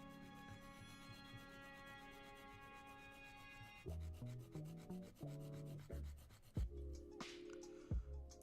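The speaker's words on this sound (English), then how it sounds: "let's give this now a good sand. Or file, I guess" A Warhammer miniature being sanded or filed by hand, with a steady, close rubbing scrape over background music.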